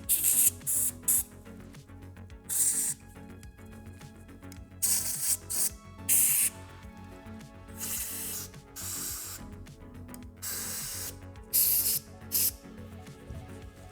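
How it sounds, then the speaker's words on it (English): Compressed air from a compressor blasts in repeated short hissing bursts to blow water out of a 12 gauge double-barrel shotgun, loud and close, with brief gaps between bursts. "for the places hard to reach with the towel, we use compressor to dry it out"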